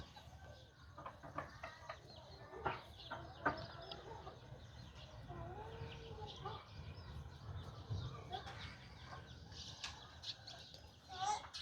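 Chickens cluck faintly around a rural house, scattered soft calls mixed into a quiet background while people talk nearby.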